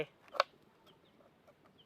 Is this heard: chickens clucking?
yes